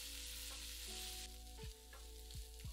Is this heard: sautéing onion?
yes